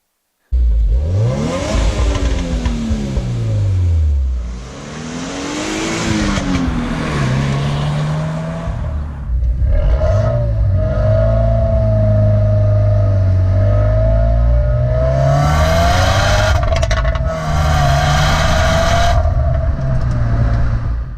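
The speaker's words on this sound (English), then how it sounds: "it means the car sounds more like an Evo than a traditional Subaru." A 2015 Subaru WRX turbocharged engine revs hard again and again, rising and falling in pitch, loud and close with no voices.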